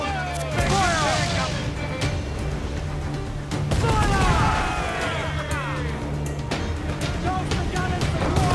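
Ship cannons fire in a naval battle in Assassin's Creed 4 Black Flag, heavy booms over a constant loud roar of battle, with shouting voices, whistling sounds and crashing impacts.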